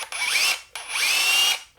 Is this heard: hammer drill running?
yes